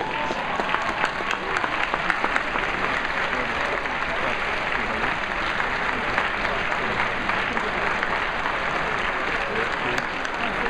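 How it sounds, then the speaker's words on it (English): A graduation commencement audience claps and cheers loudly and without pause, dense sustained applause filling a large hall. "I'd like you to clap and cheer and look at the people that made you"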